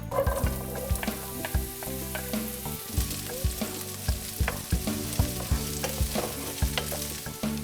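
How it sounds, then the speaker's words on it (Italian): Zucchini fry in olive oil with lightly browned garlic in a pan, giving a steady close sizzle with rhythmic stirring and utensil scrapes throughout, no voices. "una volta che abbiamo rosolato un pochino l'aglio, possiamo aggiungere le zucchine"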